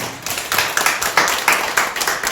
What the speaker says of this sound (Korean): 다시 한번 박수로 환영하겠습니다.